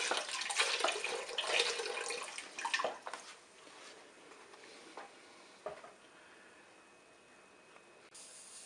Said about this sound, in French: On verse tout simplement le lait dans la cuve.